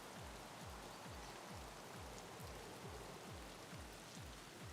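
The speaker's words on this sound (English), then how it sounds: "Got the rain coming down on us." Steady, dense rain pours down in the game Escape from Tarkov, a constant wash of drops with a repeating low thudding pulse underneath, filling the scene without any talk.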